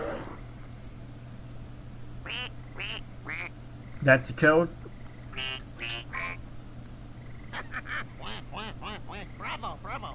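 A duck call quacks in the Open Season game for PS2, giving a short burst of nasal quacks mid-clip. Cartoon characters talk before and after.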